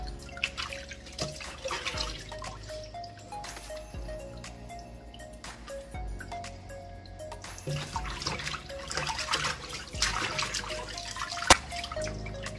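Snapper fish being rinsed and washed under a running kitchen tap, with water trickling and splashing into a sink, irregular drips and handling noises, and a low rhythmic hum underneath.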